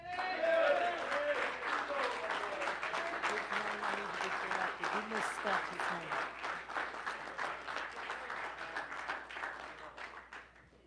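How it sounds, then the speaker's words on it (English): Applause from an audience at a celebration for graduates, a dense roll of many hands that starts loud, fades slowly over about ten seconds, and has a few voices beneath it. "How about another round of applause for all the graduates?"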